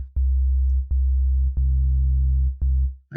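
Ableton Operator FM synth playing a pure low sine tone layered with a second sine wave, sounded as a series of sustained notes, each opening with a brief bright click, with short gaps between them.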